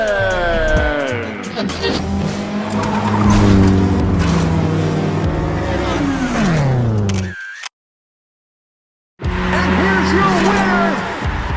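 Diecast Hot Wheels 1972 Chevy C10 custom car racing down a track, with rolling wheel noise and whirring under loud announcer talk, cutting to silence before more talk.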